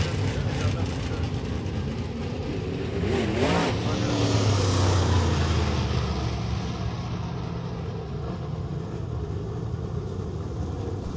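Late model race cars on a dirt track at Lake of the Ozarks Speedway, engines droning steadily with a swell of revving as cars pass nearby, under a continuous announcer's voice.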